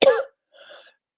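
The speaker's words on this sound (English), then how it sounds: "apologize for coughing." A single person's cough during a live talk, a short sharp burst followed by a fainter, breathy second cough about half a second later, close up with no other sound.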